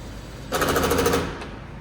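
A short burst of rapid mechanical rattling from a power drill or impact driver, lasting under a second, against a quiet background hum.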